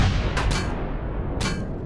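Small projectiles fire in the space survival video game Empyrion Galactic Survival, two quick muffled bursts over a constant low rumbling background, without speech.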